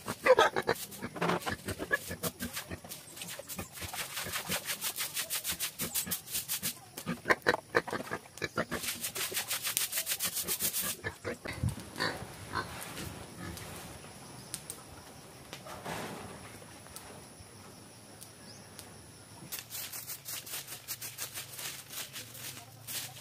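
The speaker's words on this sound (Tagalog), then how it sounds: "Mamahog na ta sa baboy." Pigs at feeding time grunt and squeal in dense, rough bursts, close and fairly loud, with quieter stretches between the noisy spells.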